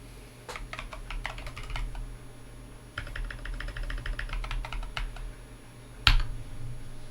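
Keys clatter on a computer keyboard while software downloads, quiet close-up typing in quick bursts with a short pause near the middle and a sharper keystroke near the end, no voices.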